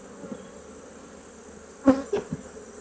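Agitated honey bees buzz around an opened hive, a faint steady hum broken near the end by a few louder, closer buzzing bursts as individual bees pass by.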